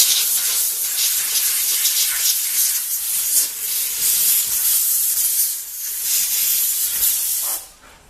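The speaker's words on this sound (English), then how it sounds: "So I'm going to jump in there with the compressor." A compressed-air line blows out a BMW E36's fuel system during a Walbro fuel pump swap, making a loud, sustained rushing hiss close by that cuts off at the very end.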